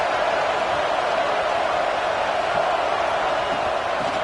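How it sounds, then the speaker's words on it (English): A football stadium crowd roars early in the game, a loud, continuous wash of cheering and noise with no breaks, heard up close and alone. "Listen to the crowd energy here in the early going."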